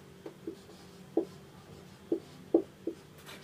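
A pen writes a maths equation for a class 9 polynomials solution, producing short, soft scratchy strokes spaced irregularly over a quiet background.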